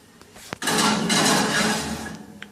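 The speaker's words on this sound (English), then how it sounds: "The oven is finally ready. Just open up." An oven door swinging open in a home kitchen: a brief metallic clunk, then a steady, fairly loud rushing whoosh that lasts about two seconds before dying away, with a faint click near the end.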